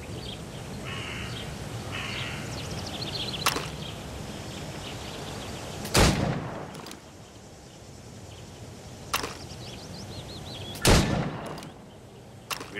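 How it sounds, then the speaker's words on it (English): Gunfire at targets in a video game: four sharp, loud shots spaced a few seconds apart, each a sudden crack that quickly dies away, over a steady background bed of game ambience. "Go on. Shoot these targets."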